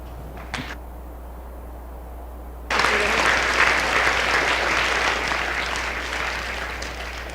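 Applause bursts out from the audience at a Veterans Day program after a poem, starting suddenly and continuing as a broad, steady clapping wash that slowly eases.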